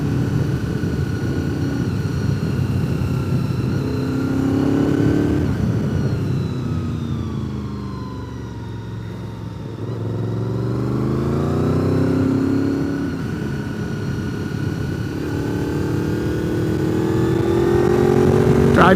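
A red car leaking coolant speeds past, its engine rising and falling through several loud revving passes with a smooth, continuous drone and no talking.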